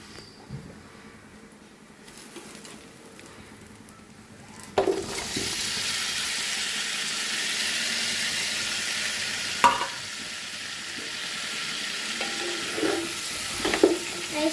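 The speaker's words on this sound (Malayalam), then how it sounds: "ഇനി നമുക്ക് അതിലേക്ക് ചിക്കൻ ഇട്ട് കൊടുക്കാം" Chicken dropped into frying masala for biryani: quiet at first, then a sudden loud burst of sizzling that holds steady, with a few stirring scrapes and clinks, close up, no voices.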